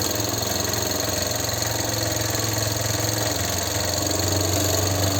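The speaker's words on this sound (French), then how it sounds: "La machine démarre." A Mamod TE1A model steam traction engine starts and runs, giving a steady, dense mechanical hum and hiss that holds evenly throughout and swells slightly near the end, with no voices.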